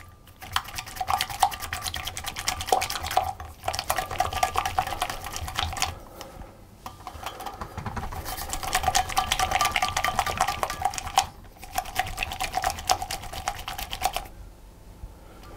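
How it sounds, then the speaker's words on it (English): Rapid metallic clicking and scraping of a whisk beating egg yolks and almond extract in a bowl, in bursts separated by short pauses. "take the egg yolks and the almond extract, and I'm just going to whisk those to"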